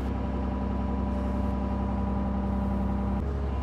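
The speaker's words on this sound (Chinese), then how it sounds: "现在最小油门开挖斗" A diesel excavator engine with a newly fitted pump idles at minimum throttle, a steady low drone with a constant hum that drops slightly in pitch near the end, close and alone.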